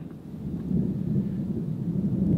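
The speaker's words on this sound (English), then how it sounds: "So it started to rain" Steady rain with a low, rolling rumble of thunder underneath, no voices.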